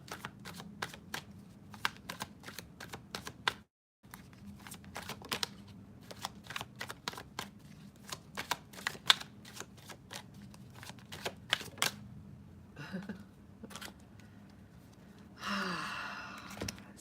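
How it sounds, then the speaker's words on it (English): Playing cards are shuffled again and again, rapid riffling clicks in bursts close by, with brief pauses and a soft breathy sigh near the end. "I don't know why I feel like just shuffling for one more card"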